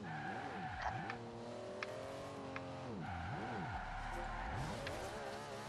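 Tyres of a RUF RT 12 S, a rear-engined, rear-wheel-drive Porsche 911-based supercar in Forza Horizon 2, squeal steadily over a revving engine whose pitch swoops up and down through corners.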